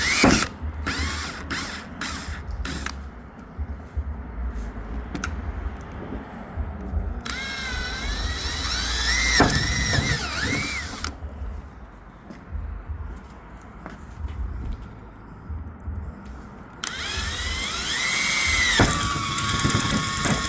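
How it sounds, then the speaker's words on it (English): A power drill boring a pilot hole for a spoiler install on a 2016-2024 Honda Civic, heard in several close bursts of whining, grinding spin separated by clicks and handling noises. "We're gonna make a pilot hole through that little pinhole there."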